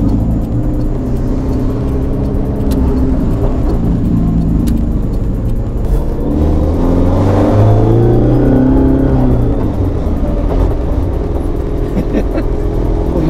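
A synthesized engine sound from a battery-electric Toyota AE86 with a manual gearbox rises and falls as if revving through gears, steady and close, with people talking over it.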